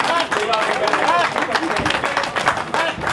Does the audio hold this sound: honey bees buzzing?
no